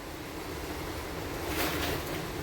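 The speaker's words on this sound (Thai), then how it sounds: "เสียงฝนมันเสียงฝนลูกเสียงฝน" A dense, steady wash of first-season rain noise at a house in Pa Sang, Lamphun, Thailand, with gusting wind swelling briefly partway through, loud and constant with no voices.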